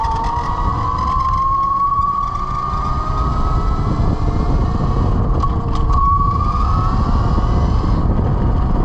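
Velimotors VMX12-F electric motorcycle ridden at speed, a steady rising electric motor whine with a gliding tone, heavy wind rush and road noise underneath, continuous and close.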